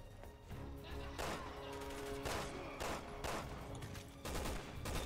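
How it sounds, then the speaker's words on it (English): Heavy gunfire and blasts from a tank firing at the player in Resident Evil 6, a run of loud repeated booming shots over a dense, steady battle din, with no voices. "Tank shot me. I got shot by a tank."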